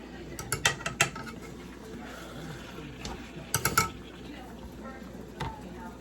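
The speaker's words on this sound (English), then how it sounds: "continue to chop this up because I don't want no big piece of no meat and no stuff" Meat is chopped up in a cooking pot with a utensil, producing irregular clattering scrapes and clustered sharp taps near the mic, with quieter stirring in between and a voice talking.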